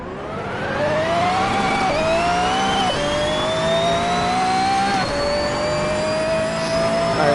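Car engine in the Assetto Corsa racing game, a loud steady drone whose pitch climbs through the revs, drops sharply at each gear change and climbs again, repeated several times with no talk over it.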